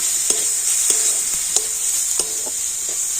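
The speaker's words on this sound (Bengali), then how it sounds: "সমস্ত মশলা দিয়ে আবার একটুখানি নাড়াচাড়া করে নেব" Spices getting stirred in a frying pan, a steady sizzle with a few spoon scrapes spaced through the short stretch, close and fairly quiet, no voices.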